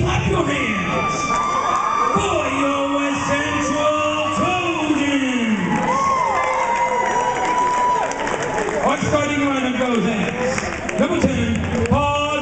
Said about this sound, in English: Ladies and gentlemen, get to your feet, clap your hands.